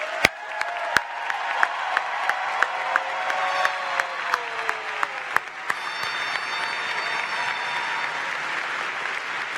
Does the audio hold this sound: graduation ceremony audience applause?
yes